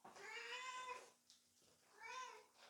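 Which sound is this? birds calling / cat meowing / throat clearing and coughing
cat meowing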